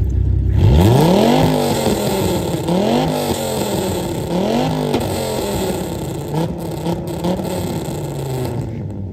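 A Dodge Viper's engine revs up loudly and close, climbing through several sweeping gear-like rises and drops in pitch, then settling into a rougher, steadier roar.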